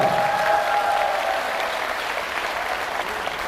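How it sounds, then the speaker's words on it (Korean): An audience applauds for Kim Byeong-rae, a district chief, at a public lecture in Gwangju: steady, dense clapping from a large crowd, loudest at the start and then holding evenly. "우리 김병래 청장한테 박수 한번 보내시기 바랍니다."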